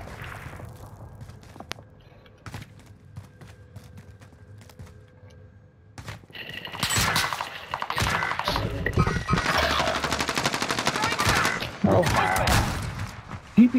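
A PPSh submachine gun fires in a video game: after a quieter stretch, dense rapid bursts of gunfire crackle loudly for several seconds, mixed with other game sounds and a player's voice.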